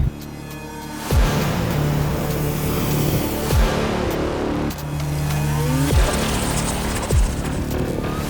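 A rare Lamborghini sports car roars past again and again, engine revving up and down with several sharp whooshing pass-bys close by.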